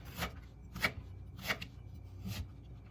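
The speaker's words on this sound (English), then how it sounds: "Cut it in half first, and then cut down slices." A knife slices peeled parsnip on a cutting board, four soft, evenly spaced chops close by in a quiet kitchen.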